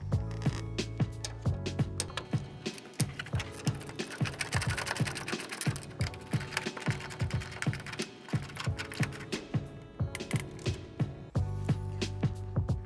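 A ratchet driving two 8mm bolts back in while reinstalling a tail light on a 2008-2016 Ford F-350 Super Duty: rapid, close clicking pawl runs in repeated bursts, with short pauses between strokes.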